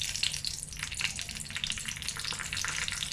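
Mustard seeds and urad dal spluttering in hot oil for a kuzhambu tempering: a dense, steady crackle of close popping and sizzling with no break and no voices.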